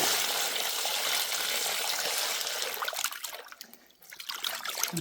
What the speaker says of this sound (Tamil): மீனை நல்லா கழுவி எடுத்துக்கிறோண்ணா தண்ணி ஊற்றி கழுவுவோம்